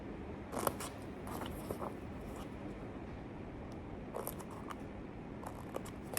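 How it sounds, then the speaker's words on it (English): Scissors snip slits into a paper worksheet for a pop-up Christmas card, giving light, crisp cuts in small irregular bursts close to the microphone over quiet room noise. "you're going to get a pair of scissors and you're going to cut slits on the worksheet"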